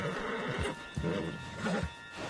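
A horse whinnies in Red Dead Redemption 2 over a busy background of game ambience and faint hoof clatter, fairly loud and close.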